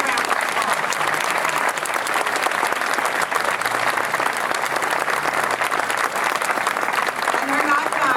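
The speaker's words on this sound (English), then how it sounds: "please give them a huge round of applause" Audience applause for a fire department bagpipe and drum corps at a gala opening and 9/11 commemoration, a dense, steady clapping from a large crowd that continues without a break.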